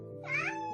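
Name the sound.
kitten meowing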